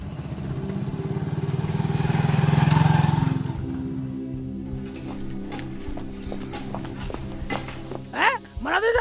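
A motorcycle engine drones loudly and builds to a peak before fading into a lower rumble, while voices talk over it and a short clatter comes near the end.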